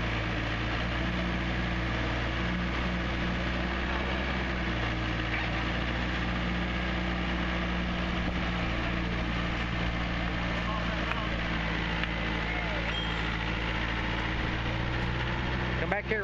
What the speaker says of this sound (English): Watch the tractor, it's gonna pick that log up.